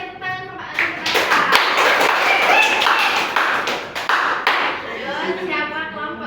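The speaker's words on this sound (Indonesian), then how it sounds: "tepuk tangan untuk Pak Anies" A class in a school lesson breaks into dense clapping, steady and fairly loud for several seconds before thinning out, with voices talking over the claps near the start and end.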